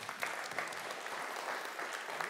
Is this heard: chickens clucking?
no